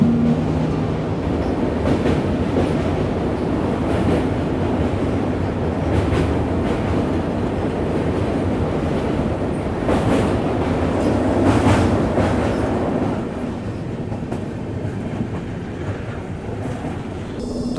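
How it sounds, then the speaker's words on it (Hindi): The Danapur Secunderabad express pulls into Prayagraj Rambagh railway station with a loud, steady rumble of wheels and carriages, a rhythmic clickety-clack running throughout and easing slightly toward the end. "अपने तय वक्त पे ट्रेन यहाँ प्रयागराज रामबाग रेलवे स्टेशन पहुँच रही है"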